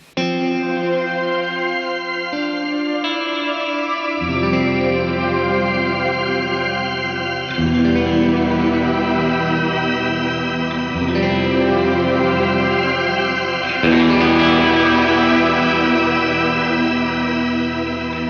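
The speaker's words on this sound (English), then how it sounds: "So this is a Shimmer. It's gonna add an upper octave or a lower octave." An electric guitar through a GFI System Skylar reverb pedal set to shimmer with the octave-up mode, sustained chords blooming into a bright, ascending wash of pitched reverb that swells and layers over about eighteen seconds, loud and alone.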